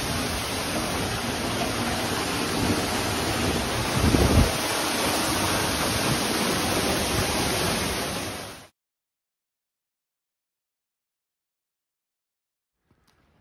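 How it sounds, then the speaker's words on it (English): Middle Falls waterfall heard from behind the falls in a small cave, a loud, dense, continuous roar of rushing water that cuts off abruptly into silence. "We're behind the Middle Falls waterfall."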